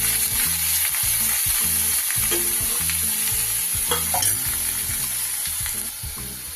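Fried spice paste sizzling in hot oil in a pan over low gas for egg dopeyaja, with a steady hiss and a regular rhythm of spatula scrapes and stirs throughout.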